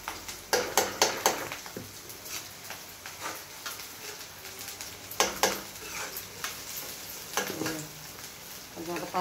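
Potato curry with onions and turmeric frying in a pan, a soft steady sizzle broken by a string of sharp stirring taps and scrapes of a utensil against the pan, close and moderately loud.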